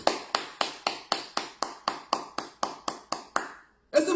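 A church congregation claps in steady rhythmic unison during a sermon, about fourteen evenly spaced loud claps in quick succession that stop abruptly, followed by a brief pause and the start of a voice.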